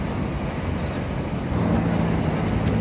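Road traffic rumbles steadily in the background, a low, continuous drone of passing vehicles that swells slightly toward the end.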